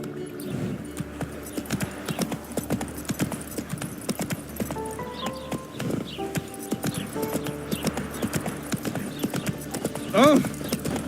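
Roach, the horse in The Witcher 3, gallops with steady, close hoofbeats throughout, and a brief whinny rises near the end over game music, while a voice talks intermittently.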